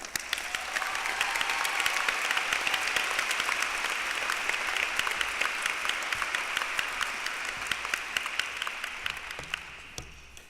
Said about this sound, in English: A final applause for all of our recipients.